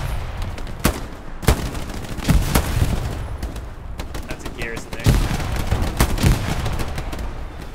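Gunfire from a Hell Let Loose WW2 battle: sharp individual rifle cracks and bursts, some near and loud, over a constant rumble of distant fire, with voices talking now and then.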